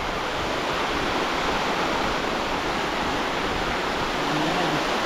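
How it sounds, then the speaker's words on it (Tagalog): Strong wind from an approaching typhoon making a loud, unbroken broadband roar, like rushing water, that holds steady and close for the whole stretch with no distinct gusts or pauses. "Maglandfall na siya ng bagyo,"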